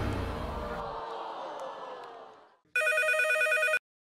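A telephone rings on a televised dating-show stage, one short pulsing burst of electronic ringing that starts abruptly after fading crowd noise and voices, then cuts off.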